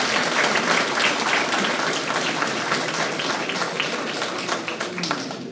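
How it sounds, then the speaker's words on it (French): An audience claps at a New Year's greetings ceremony in Cocumont, a dense, even patter of many hands that eases off slightly toward the end, with no talk over it. "Vous pouvez les applaudir"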